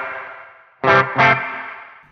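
Two short guitar chords ring through a Meris Mercury X reverb pedal with the low end cut, leaving a bright, thin decaying wash that tails off into a long reverb trail.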